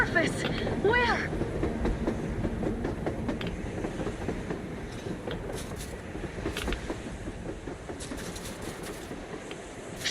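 A train in the video game Metro Exodus rolls past with a continuous rumbling, clickety-clack rattle that holds steady throughout, with a brief voice early on.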